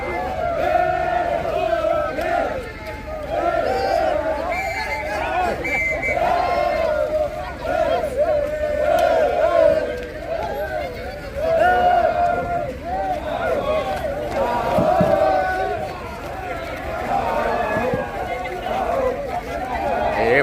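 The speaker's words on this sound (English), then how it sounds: "Quite a crowd is gathering." A large crowd at a Bukusu circumcision procession shouts, chants and chatters continuously, a dense, loud, close mass of voices that never lets up.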